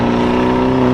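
Car turbocharger spooling on an oil-burning engine, a loud steady whine riding over the engine drone for a brief moment, with no speech over it.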